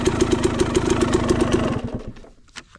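A new motorcycle's engine runs close by at a fast, evenly pulsing idle for about two seconds, then falls away into quieter mechanical ticking.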